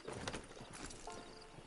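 Horse hooves clip-clop at an easy walking pace in Red Dead Redemption 2 online, faint and steady against a soft game ambience.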